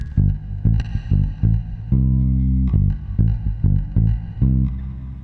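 Bass guitar through a Fender Bassman reverb pedal, lush reverb tail, a grooving line of plucked notes and sustained tones played alone, moderately loud.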